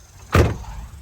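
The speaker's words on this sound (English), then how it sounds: "Both barn doors open and close." A single solid thud of a rear barn door on a 2005 Ford Excursion Eddie Bauer swinging shut, a short close impact followed by a brief fading rattle and otherwise quiet surroundings.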